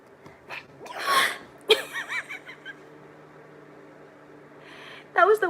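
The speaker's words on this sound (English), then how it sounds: "That was the weirdest sneeze I've ever heard in my entire life." A single sharp, odd-sounding sneeze bursts out near the start, followed by a few quieter breathy sounds and a squeaky vocal noise at the end.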